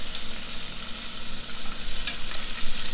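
Shrimp frying in hot oil, a dense continuous crackling sizzle with small pops, close and steady throughout with no talk.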